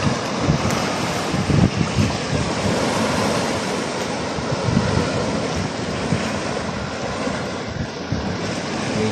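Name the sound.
strong sea waves crashing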